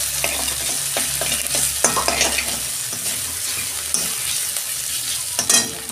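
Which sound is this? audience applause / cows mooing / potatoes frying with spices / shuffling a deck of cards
potatoes frying with spices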